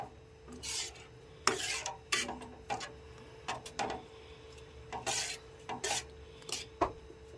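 A spoon scrapes and rasps in a pan as Bombay chutney with added water is stirred over a low flame, a run of short, irregular strokes that sound close and moderately loud with no talk.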